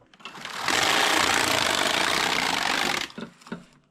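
A Passap E6000 knitting machine carriage sweeps across a single row of stitches in one loud, steady mechanical whir lasting a couple of seconds, followed by a few light clicks as it stops.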